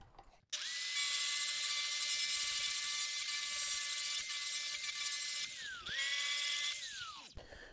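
A power sander working metal with a 120 grit finishing kit, starting abruptly as a loud, steady high whine, briefly dipping and restarting near the end before spinning down, with no talking.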